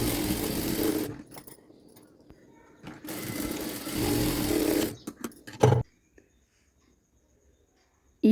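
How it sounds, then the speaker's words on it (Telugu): An electric sewing machine runs in short bursts while double-stitching the shoulders of a lined blouse, with pauses between runs and a few soft handling clicks near the end. "భుజాల మీద డబుల్ స్టిచ్ అయితే వేసుకోండి, అలానే చేతుల చుట్టూ అతికేటప్పుడు కూడా డబుల్ స్టిచ్ వేసుకోవాలి."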